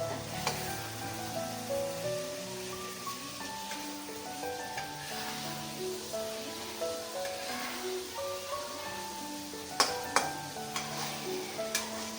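Stuffed bananas fry gently in a pan with a quiet, steady sizzle, soft stirring scrapes and a few sharper clicks toward the end, under faint music-like tones.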